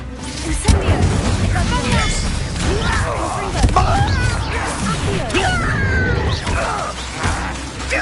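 An Incendio fire spell cast in Hogwarts Legacy bursts out amid a dense, loud jumble of whooshes, thuds and crashes from combat, continuous throughout.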